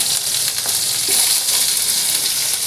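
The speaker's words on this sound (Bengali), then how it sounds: "কপিটা আমি একটু ভেজে নিলাম" Cauliflower frying in a nonstick pan gives a steady, close, loud sizzle and hiss, with a faint scrape near the middle and no talking.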